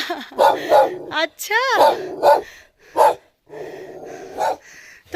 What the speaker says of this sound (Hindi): वहाँ पे एक डॉगी है, सोच रहा है कौन जा रहा है भाई। तो भौंक रहा है।